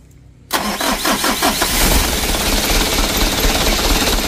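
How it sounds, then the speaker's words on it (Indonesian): A Mitsubishi Canter diesel truck with a slow-returning throttle fault is started. The starter cranks in several quick rhythmic pulses for about a second before the engine catches and settles into a loud, steady running clatter. "Yuk, starter."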